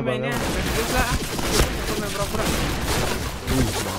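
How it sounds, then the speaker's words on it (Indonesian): Rapid bursts of pistol gunfire in the game Point Blank crackle continuously through dense action noise, with a voice briefly audible at the start. "Aduh, ada yang pakai pistol."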